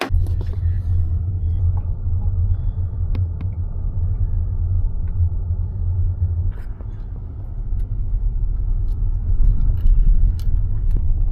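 A car rolls slowly along a country lane, its low engine rumble steady and close throughout, with a faint jangle of keys and small knocks over the drone.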